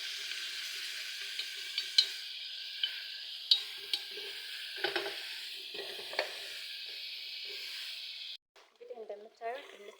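Onions fry in a pan for a sauce with a steady hiss and a few sharp spatula taps. The sizzle drops off near the end and a voice is heard briefly.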